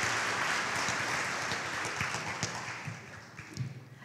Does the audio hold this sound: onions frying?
no